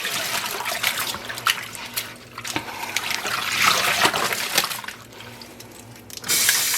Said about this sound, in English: I'm going to add some clear dish soap to this rinse bag.